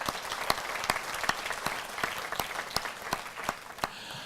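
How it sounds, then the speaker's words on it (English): A business growth celebration crowd applauds, many hands clapping in a steady wash with a few sharp, distinct claps standing out close by, moderately faint overall. "So give yourselves a round of applause because you have made a difference."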